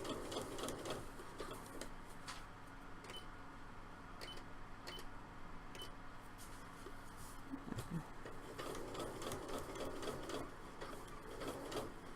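A sewing machine stitching fabric for cosplay gloves with finger armor, a faint, steady fast mechanical whir and ticking that runs throughout with brief pauses and no talk.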